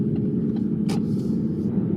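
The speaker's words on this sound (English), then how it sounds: "It's very smooth and it's so refined for a 3-cylinder petrol." A 2015 Ford Focus 1.0-litre EcoBoost three-cylinder petrol engine idles with a steady low rumble throughout, joined by a brief airy click partway through.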